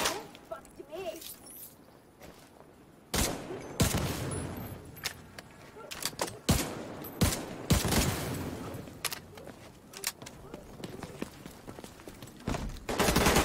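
Rapid bursts of machine gun fire in The Division 2, loud sharp volleys starting a few seconds in and recurring irregularly, with background game noise between bursts.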